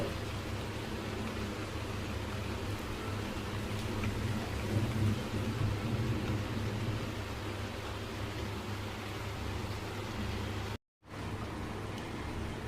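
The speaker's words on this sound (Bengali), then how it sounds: "বৃষ্টি হচ্ছে তো টিপটিপ করে" Light rain falls outside in a steady, even hiss of drizzle that continues without letup, soft and moderately distant, with no voices.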